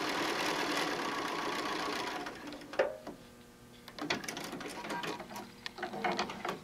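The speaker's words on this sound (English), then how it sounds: "And so we're going to sew down our line." A sewing machine stitches a quilt seam on a Preppy Whale pattern block, giving a steady close whir for about two seconds before stopping. Scattered clicks and handling noises follow.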